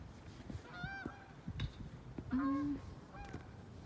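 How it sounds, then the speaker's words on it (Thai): Several loud goose honks ring out, a couple of short calls early on and a longer drawn-out honk near the middle, over faint outdoor background. "ห่านห่านที่นี่บินสูงมากเลยนะคะ"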